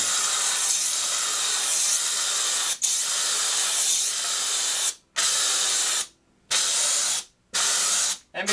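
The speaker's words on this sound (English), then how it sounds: "I'm just playing here, using up the steam that I already made." A steam cleaner sprays loud continuous hissing bursts in a shop, used on motorcycle wheels, each long blast cutting off abruptly several times near the end with brief silences between.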